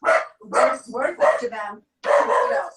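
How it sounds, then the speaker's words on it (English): A dog barks in short bursts, mixed in with a person talking over it indoors during a product presentation. "that's the dog"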